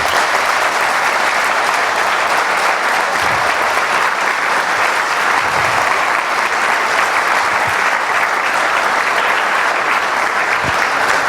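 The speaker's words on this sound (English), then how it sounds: "I would like to ask you to give a round of applause for all my colleagues" Conference audience at a European standardization event applauding, a loud, dense and unbroken wall of clapping that holds steady throughout.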